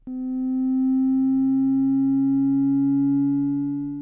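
A steady synthesized tone from Ableton's Meld synth with a second lower tone entering shortly after, both sustained and smooth with only subtle LFO-driven wavering in pitch.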